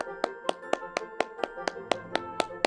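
Preschool children clap their hands in a steady rhythm, about a dozen crisp, evenly spaced claps close by with no talking.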